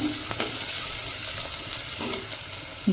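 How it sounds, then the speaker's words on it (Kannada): Tamarind and lemon sizzle and fry in a small tempering pan, a steady close crackle with stirring scrapes and no talking. "ಇದು ಇಷ್ಟೇ ಇರಲಿ, ಇಷ್ಟೇ ಫ್ರೈ ಆಗಲಿ."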